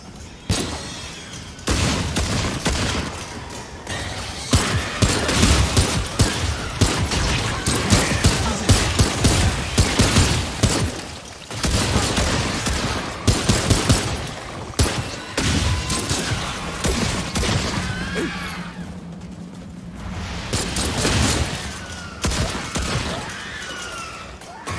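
Gunfire in the video game Remnant 2: dense bursts of shots and impacts, loud and close, with brief pauses between volleys and a sustained low tone near the end.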